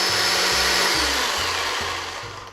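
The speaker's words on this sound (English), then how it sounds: "this is a great chainsaw" A 40-volt battery electric chainsaw runs with a steady high whirring whine, loud and close, slowly winding down and fading near the end.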